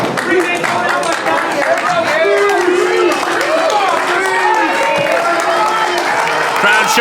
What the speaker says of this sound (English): Crowd showing their appreciation here